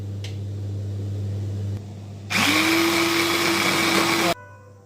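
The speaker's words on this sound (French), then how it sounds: "Je vais le mettre dans le mixeur." A kitchen blender whirs to life chopping six garlic cloves, a loud steady motorized roar that starts after a quieter hum and cuts off abruptly about two seconds later.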